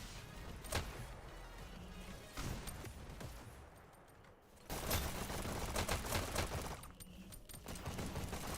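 SMG and pistol firing in a VR shooter esports match, rapid bursts of sharp shots and clattering cracks coming in uneven clusters across the stretch, moderately distant and fairly quiet.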